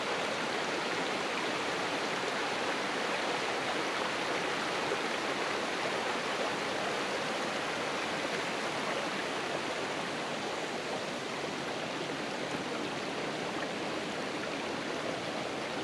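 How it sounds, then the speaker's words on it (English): Creek water rushes past a grist mill race in the Great Smoky Mountains, a constant, dense hiss of flowing water, close and unbroken with no voices. "you can see where the mill race collects the water from the creek"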